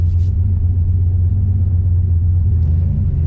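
Deep, steady engine rumble from a fast brick-style drag car on a prepped street, heard close and loud with a heavy low-end drone that barely changes across the short stretch.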